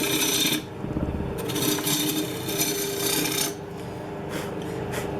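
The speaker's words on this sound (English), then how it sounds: "I'm just going to shape the profile of the bottom of the bowl." A wood lathe turns a natural-edge holly bowl while a tool shapes its bottom, giving a close, continuous scraping rasp with a steady hum that briefly drops and swells as the cut varies.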